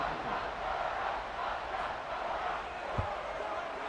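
Stadium crowd noise from a college football video game, USC Trojans at BYU Cougars: a steady, loud roar of cheering that swells and rises across the stands, with one brief thud partway through.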